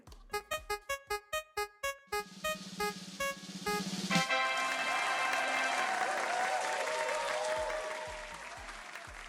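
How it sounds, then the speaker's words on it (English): Audience applause at a drag competition semi-final, beginning as a run of separate musical stabs before a full crowd of clapping swells in and holds strongly, then tapers slightly toward the end. "Round of applause"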